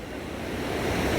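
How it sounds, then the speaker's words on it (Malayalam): A heavy waterfall in Meghalaya plunges from a great height, giving a steady, broad roaring rush that swells slightly louder over a short moment, with no voices. "ഭയങ്കര ഹെവി വാട്ടർഫാളാണ് കണ്ടോ"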